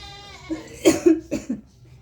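A short burst of several dry coughs from someone with a cold, close by, uneven and a little hoarse, over a quiet background.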